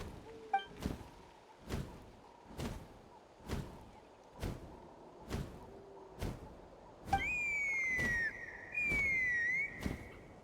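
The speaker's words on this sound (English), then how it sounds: "That sounded like a whistle." A bright whistle tone sliding and warbling in the game Genshin Impact, heard twice near the end, over a steady series of heavy rhythmic thumps that repeat about once a second.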